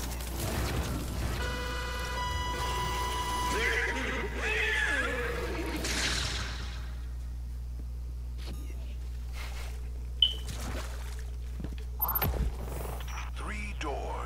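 A horse whinnies loudly in the Destiny 2 video game, a long wavering neigh with rising and falling pitch, followed by quieter mechanical clanks, a sharp thud and scattered game effects over a steady low hum.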